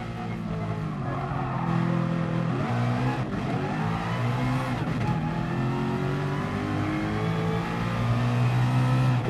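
A 1992 Nissan R92CP Le Mans race car in GT Sport accelerating hard, its engine climbing through rising rev sweeps with gear shifts, loud and steady on a long straight without chicanes.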